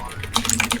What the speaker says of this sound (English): That's just you typing normally.